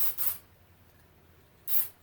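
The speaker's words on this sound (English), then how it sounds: "I want to spray the bottom side of this Grunow 72 knob" Two short bursts of hissing lacquer from an aerosol spray can onto a 3D-printed knob for a 1934 Grunow tube radio, close and fairly loud, separated by over a second of quiet room tone.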